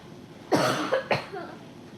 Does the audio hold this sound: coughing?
yes